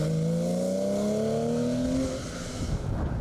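A Porsche 911 rally car on a tarmac stage at the Ulster Rally races past. Its engine note climbs through loud gear pulls, then fades into a rougher, more distant rumble.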